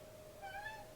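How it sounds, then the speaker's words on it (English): A pet cat named Chip gives a single short meow in the background, faint and brief over a quiet room. "You might hear my cat in the background."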